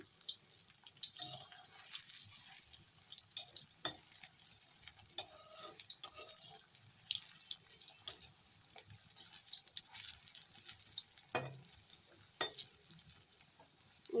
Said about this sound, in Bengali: এটাও এখন ভাজা হোক সুন্দর করে বেশি নাড়ানাড়ি করবো না